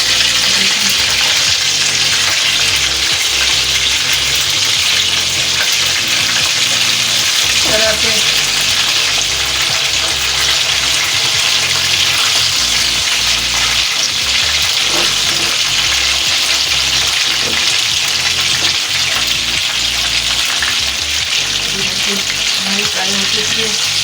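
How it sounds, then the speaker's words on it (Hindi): Fish frying on low heat in a pan, a loud, steady, dense sizzle with fine crackling that goes on unbroken, plus occasional faint stirring sounds. "मछली हमने बिल्कुल हल्की आंच पे फ्राई करनी है।"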